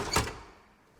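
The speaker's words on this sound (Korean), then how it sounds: "다시 문을 닫아 보도록 하고요." A cabriolet-style balcony window door with a safety latch closes in a house, one firm thunk followed by a short fading rattle, heard alone without talking.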